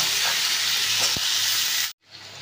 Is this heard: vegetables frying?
yes